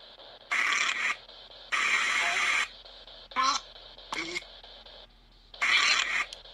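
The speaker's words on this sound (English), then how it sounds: "Turn on white noise on the necrophonic." Bursts of white noise from a necrophonic spirit box device start and stop in blocks, with brief sweeping tones between them, fairly loud and close.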